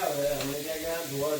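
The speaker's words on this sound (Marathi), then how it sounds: "मस्त आता रोस्टिंग चालू आहे." Chicken coated in ginger garlic paste sizzles steadily as it roasts in butter, a close, continuous frying hiss with occasional stirring, while voices talk over it.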